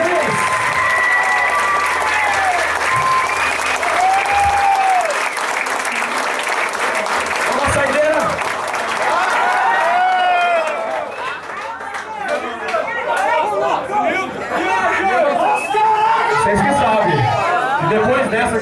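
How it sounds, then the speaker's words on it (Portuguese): Concert audience applauds and cheers at a brutal death metal festival show, sustained crowd clapping with chatter and whistles, loud and dense, mixed with talking voices. "Um aplauso aí para Ele."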